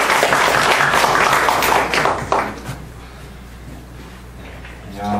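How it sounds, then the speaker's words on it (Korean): An audience at a Korean company design-day presentation claps for an incoming speaker; dense applause fills the first couple of seconds, then thins out and fades away. "큰 박수 부탁드릴게요."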